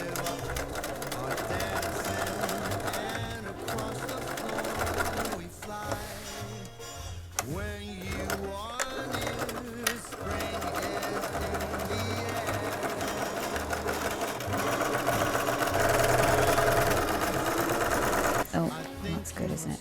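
Sewing machine stitching the fabric of an Alchemilla rain cape, running in long steady stretches with brief pauses, while a person talks over it.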